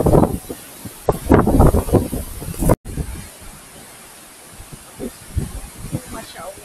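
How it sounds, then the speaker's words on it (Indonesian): Strong wind gusts buffet the microphone at the Sendang Gile and Tiu Kelep waterfalls near Senaru on Mount Rinjani, giving a rough rumbling roar with voices speaking over it. "anginnya kencang"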